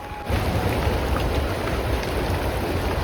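Unseasonal rain pours down steadily, a dense hiss of drops on surfaces that starts abruptly and stays loud and even.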